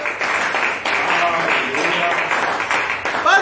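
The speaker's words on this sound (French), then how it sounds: "Donnons une acclamation à notre Dieu." Congregation members in a church service clap together in sustained, dense applause with scattered voices calling out over the clapping.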